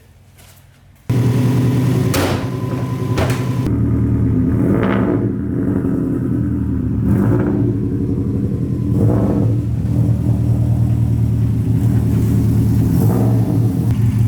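After a quiet start, a Subaru 2.5RS with a swapped WRX engine starts up and idles with a deep steady rumble, then revs a few times as it pulls out of a shop.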